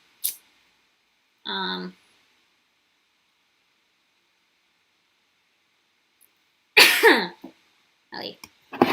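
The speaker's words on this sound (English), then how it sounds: "Coughing away, guys. I only have 1 cough drop left." Several harsh coughs break out in short bursts separated by long stretches of silence, close and fairly loud.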